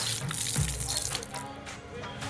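Water runs from a tap into a cattle trough in a village, a close, splashing gush that flows steadily for a couple of seconds.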